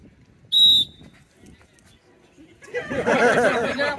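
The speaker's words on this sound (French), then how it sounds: "Au coup de sifflet, vous y allez, d'accord?" One sharp, shrill whistle blast sounds briefly to start a round of a game at the Futuroscope theme park, then a crowd breaks into loud excited chatter and cheering.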